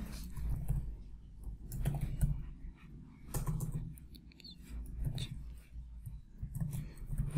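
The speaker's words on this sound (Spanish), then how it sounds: "Un clic, otro clic." Clicks from a computer mouse and keys while working on a map in ArcMap, a series of soft irregular taps at close range over a low background hum.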